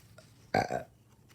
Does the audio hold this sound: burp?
yes